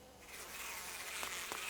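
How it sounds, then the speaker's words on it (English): A swarm of bees buzzes around a Torii gate in the horror game Spirit Hunter: Death Mark, a soft, continuous insect drone that stays faint and steady with no voices. "There, the Torii gate's full of bees."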